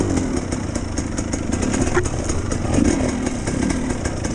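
A GPX TSE 300 motorcycle engine on a trail ride, a moderately loud steady buzzing drone with slight wavering, continuous and without talk.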